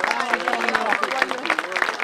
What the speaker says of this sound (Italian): C'è un altro applauso.